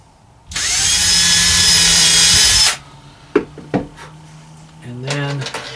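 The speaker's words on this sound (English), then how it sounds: "We'll drill a pilot hole real quick." A power drill bores a pilot hole in oak trim on a DIY travel trailer ceiling, one loud steady whine of about two seconds, followed by a few knocks and handling clatter.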